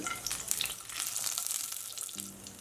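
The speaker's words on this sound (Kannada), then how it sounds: "ಪ್ಯಾನಿಗೆ 2 ಟೇಬಲ್ ಸ್ಪೂನಷ್ಟು ಎಣ್ಣೆ ಹಾಕಿ 1/4 ಟೀ ಸ್ಪೂನಷ್ಟು ಜೀರಿಗೆ ಹಾಕ್ಕೊಳ್ಳೋಣ." Cumin and cashews frying in hot oil in a pan, a dense continuous crackling sizzle heard close up, steady throughout with no voices.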